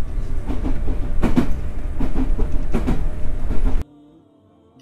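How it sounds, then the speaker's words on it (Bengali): A passenger train pulls into a station after running about an hour late. A loud, close rumble with rhythmic clanking builds steadily, then cuts abruptly to near silence. "অবশেষে অপেক্ষা করতে করতে প্রায় 1 ঘন্টা লেটে আমাদের ট্রেনটি চলে আসে"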